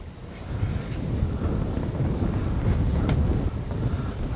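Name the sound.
Freewing MiG-29 80mm RC jet flying a gear pass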